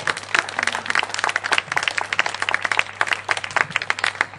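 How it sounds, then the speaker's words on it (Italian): Steady applause from an audience at a party candidate presentation in Valle d'Aosta, greeting a young Democrat; dense clapping runs evenly throughout with no voices over it. "gli farei un applauso per questo"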